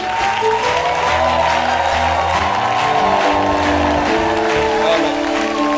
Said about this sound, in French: Nous voulons encore donner gloire à Jésus par des acclamations.